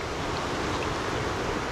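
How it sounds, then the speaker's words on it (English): Ocean waves roll in at Ingonish Beach on foggy Cape Breton, a steady broadband wash of surf with light wind noise, continuous and fairly close, no talking. "Got some nice waves rolling in"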